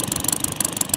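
An OS IL-300 model engine converted to run on gas idles steadily, a fast rhythmic mechanical putter with regular pulses, loud and close, with no voices.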